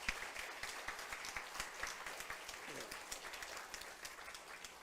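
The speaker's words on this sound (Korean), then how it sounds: "박수 한번 부탁합니다." Congregation in a church applauding in steady, dense clapping that fills the room throughout, moderately loud and without talk over it.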